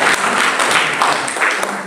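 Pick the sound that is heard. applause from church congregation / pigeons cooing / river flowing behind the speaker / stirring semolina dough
applause from church congregation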